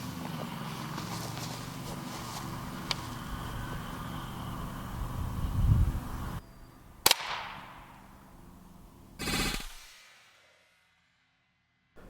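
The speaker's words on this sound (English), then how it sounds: "All right, first shot. This is a Ruger 1022 long rifle." A single sharp crack from a Ruger 10/22 .22 long rifle striking a polished foil ball, heard against steady outdoor background noise, followed by a second short burst and then quiet.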